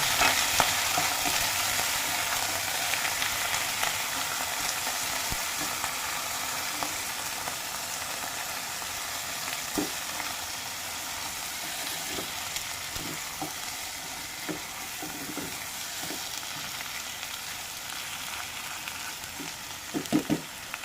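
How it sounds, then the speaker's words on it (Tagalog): Chicken sautéing in a pan for a chicken curry, a steady close sizzle and frying hiss running the full length with scattered stirring clicks and scrapes, no talk. "Then, igisa na natin ang ating chicken."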